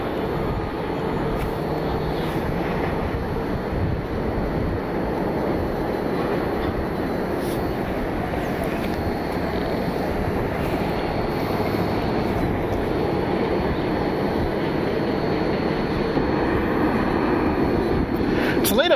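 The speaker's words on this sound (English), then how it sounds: "Another 737 for United pushing back." United Boeing 737 pushing back at an airport, a continuous broad roar of jet engine and ground noise heard from a distance outdoors.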